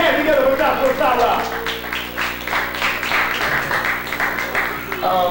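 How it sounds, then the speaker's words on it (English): A live audience applauds a performer at a community Mother's Day event, steady clapping spread over the full stretch, near and fairly loud, with voices and crowd noise mixed in. "Give you a well-deserved round of applause to my brother, Joshua Sara."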